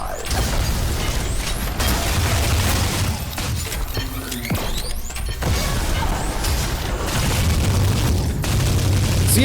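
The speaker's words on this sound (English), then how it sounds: "Yes, that minigun is as loud as you think it is." Minigun firing during a boss fight in the retro shooter Selaco, heard as a loud, dense, sustained roar of gunfire with booming impacts and explosions throughout.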